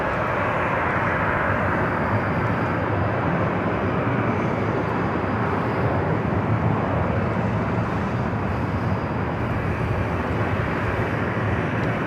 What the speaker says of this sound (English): United Express, SkyWest Flight 5297 coming in from Sacramento, an E175LR, next arrival here on the north side